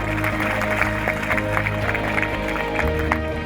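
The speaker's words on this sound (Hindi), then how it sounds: "एक बार जोरदार ताली स्वागत होना चाहिए।" A village gathering claps in welcome for an honoured guest, a burst of scattered, uneven clapping from a small crowd, steady throughout over a low background hum.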